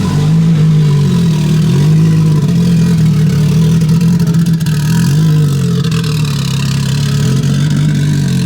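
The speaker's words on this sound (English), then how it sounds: "Super cool Renault 5 Turbo." A Renault 5 Turbo engine runs loud and close at a steady, throaty drone, with only slight swells in pitch rather than sharp revs.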